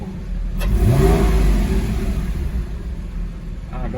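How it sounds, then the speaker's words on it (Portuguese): A Porsche Cayman GT4 engine revs hard with the exhaust valve closed, a loud rising and falling mid-pitched roar that holds as a steady rumble. "Dá uma acelerada."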